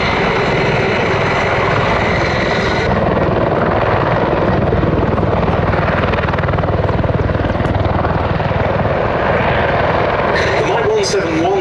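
A large Mil Mi-17 or Mi-35 military helicopter roars overhead at an air show display with steady heavy rotor thumping and engine whine, loud and continuous, with a voice talking over it.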